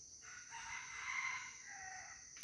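A rooster crows once outdoors, a drawn-out rising and falling call lasting about two seconds, faint and somewhat distant against a quiet background.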